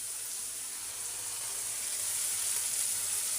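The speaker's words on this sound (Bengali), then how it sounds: "এখন দিয়ে দেবো করলাগুলো।" Sliced bitter gourd meets a pan of frying small shrimp, giving a dense, even sizzle that swells slightly toward the end, with no voices.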